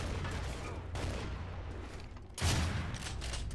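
Sustained gunfire from a Gears of War 2 match rattles on steadily, with a louder burst of shots partway through.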